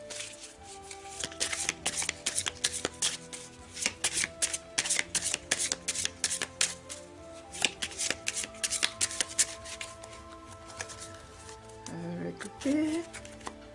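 Tarot cards shuffled by hand before a draw, a run of quick, crisp riffling snaps close to the microphone, then a short pause and a few softer card handling sounds with a brief voice near the end.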